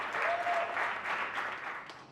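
Crowds up and down the land applaud NHS carers and key workers during the pandemic: a steady wash of distant clapping from many hands, fairly faint and continuous, with no clear voices.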